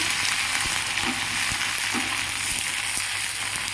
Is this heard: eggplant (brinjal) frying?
yes